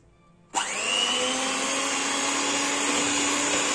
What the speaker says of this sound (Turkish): Yaklaşık 2-3 dakikadır şekerle yumurtasını çırpıyorum.